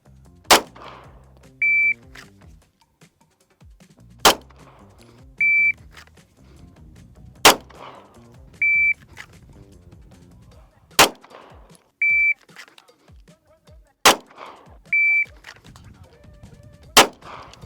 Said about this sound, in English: I'm just gonna draw and shoot one shot and do my best to keep it in that circle.